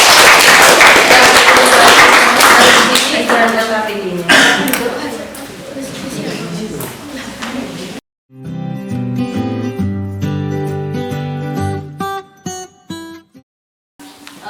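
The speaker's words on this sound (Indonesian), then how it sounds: "Baik, tepuk tangan untuk kelompok 1." Classroom students applaud a presenting group, a dense burst of clapping from many hands filling the first eight seconds, then giving way to a voice speaking and soft background sounds.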